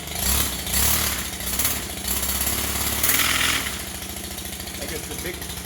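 A Stihl HT 133 pole saw runs with its chain spinning, a loud buzzing two-stroke engine that surges and settles several times before dropping to a lower hum.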